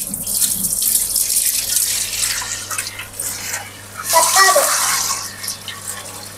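Water splashes and runs steadily into a home aquarium tank, a continuous tap-like gush with a louder surge toward the end, while voices talk faintly in the background.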